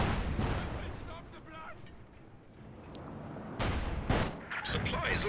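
Artillery bombardment mixed with rifle and machine-gun fire in the WWII strategy game Company of Heroes 2, heavy bursts rolling continuously with louder blasts near the end.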